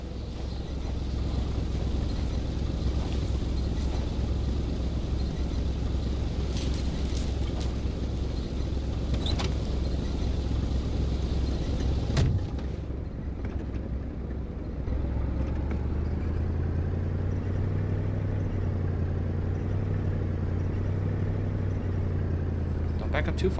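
A video-game car engine drones steadily as the vehicle drives, then drops briefly before rising again with a shifting pitch as it reverses, loud and continuous throughout.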